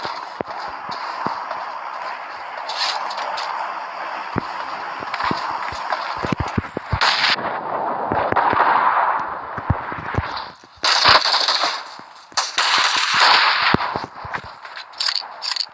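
Bombs falling in PUBG Mobile during a Livik match, sharp repeated blasts and crackling impacts over a continuous background din, some bursts close and loud, others further off.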